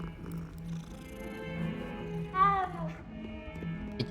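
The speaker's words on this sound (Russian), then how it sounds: "О, кися." A cat meows once in a rising, drawn-out call inside the Hogwarts Legacy video game, clear over a low steady hum and soft background tones.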